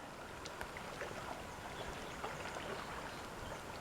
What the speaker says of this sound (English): You can hear the waves. They lap at the shore here.